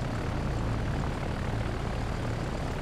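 A steady, dense drone of aircraft engines from planes flying a bombing run against a ship group in the naval game Victory at Sea Pacific, loud and unbroken with no voices.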